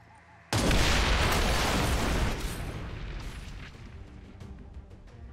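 A Claymore detonates in the XCOM 2 strategy game with a sudden loud, broadband blast that rings out and decays slowly over several seconds, with faint crackling debris in the tail.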